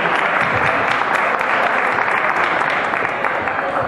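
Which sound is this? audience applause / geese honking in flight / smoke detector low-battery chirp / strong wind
audience applause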